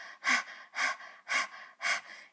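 A human voice imitates a panting dog with four quick, rhythmic breathy huffs at an even pace, close and clear with no other sound.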